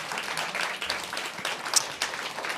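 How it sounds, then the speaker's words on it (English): A scattered indoor audience applauds at a small business event in Los Angeles, with fairly faint, steady clapping and a few sharper claps standing out. "give them rounds of applause"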